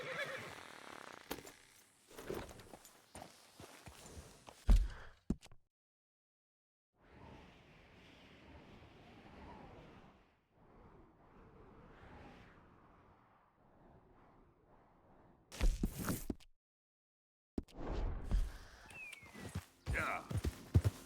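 A horse in Red Dead Redemption 2 whinnies and snorts amid scattered hoof clops and rustling. The sounds come in bursts separated by near-silent gaps, with some speech among them.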